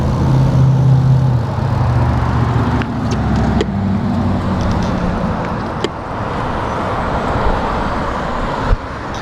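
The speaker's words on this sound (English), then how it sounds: "we got a line of cars coming" A line of cars passing on a road on a hot, gusty day, recorded from a roadside stop on a bike commute: steady, fairly loud engine and tyre rumble from vehicles going by in a continuous stream, with no voices.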